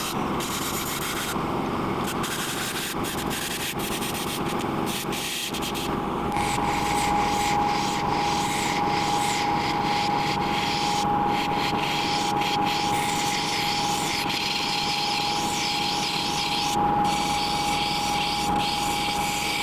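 A wood lathe spins steadily while a turning tool works the blank down in diameter, producing a continuous rubbing, scraping whir with a sustained whine running underneath, nearby and even in level throughout.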